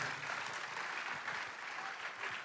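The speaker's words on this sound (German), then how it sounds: "Applaus für unseren Dan." Faint audience applause in a church service, an even patter of clapping from a moderate-sized congregation heard at a distance, steady throughout.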